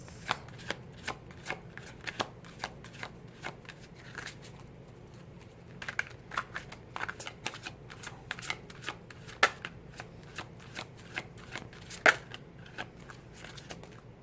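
Tarot cards being shuffled by hand, a steady close patter of crisp riffling clicks and flicks running throughout, with no talking.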